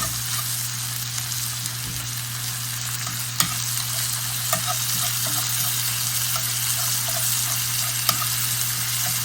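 Ground meat browning with minced onions in a pan, a steady close sizzle with stirring scrapes and a few brief clinks, no talking.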